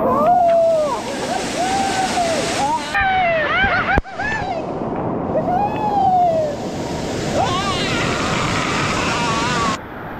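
Waterfall water pours in a steady, close rushing wash in a village setting, with bird chirps and whistles scattered over it and people talking at times.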